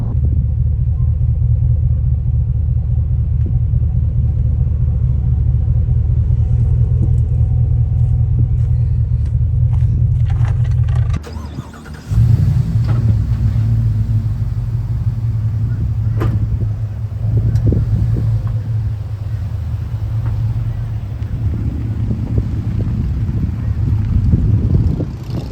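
Ford F250 with the 7.3 Godzilla engine and MBRP 4 inch exhaust driving: a loud, steady low drone that briefly drops out midway, then returns as a deep rumble with wind noise.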